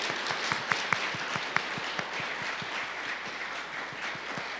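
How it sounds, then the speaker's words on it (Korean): A church congregation applauds a newly arrived pastor during a worship service, with steady, dense clapping carrying on for several seconds at moderate volume and a few sharper individual claps standing out near the start. "여러분 큰 박수로 환영해 주시기를 바랍니다"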